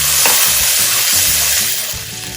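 Lemon juice, lemon zest and white wine bubble and sizzle loudly in a hot pan as they reduce, a dense steady hiss with faint rhythmic stirring sounds beneath.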